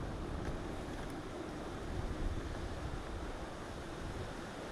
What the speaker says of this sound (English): The overpowering sound is that water, that must be flowing down at quite a steep angle.